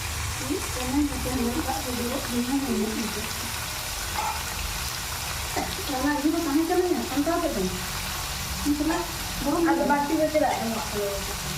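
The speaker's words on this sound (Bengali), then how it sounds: "টমেটো দেওয়ার পর কষানো হয়ে গেছে এখন দিয়ে দিচ্ছে মাংস" Meat sizzles and fries in a pan over tomatoes that have already been cooked down, a steady crackle running under ongoing conversation.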